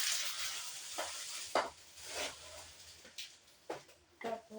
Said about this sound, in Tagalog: Tapos, haluin ng konti.